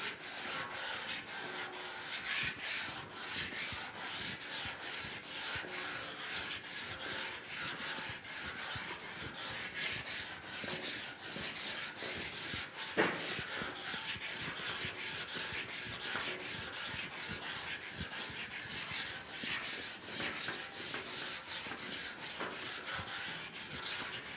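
Rigid sanding block rubbed by hand over a car body panel, a steady close scrubbing rasp in quick back-and-forth strokes that runs continuously with no talking.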